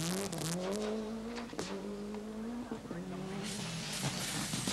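Colin McRae's blue Subaru Impreza rally car, car number two, powers along the opening stage of the 1993 Network Q RAC Rally. A loud engine climbs and drops through gears amid gravelly road noise and scattered sharp cracks, with a voice in the background.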